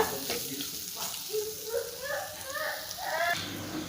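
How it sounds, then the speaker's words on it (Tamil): Onions frying for a meal maker gravy, a light sizzle with scraping stir strokes in a pan, fairly faint, with some tonal background sound. "வெங்காயம் சேர்த்தனால இன்னும் ஒரு அஞ்சு நிமிஷத்துக்கு இதை வந்து நம்ம நல்லா மிக்ஸ் பண்ணி விட்டுக்கலாம்"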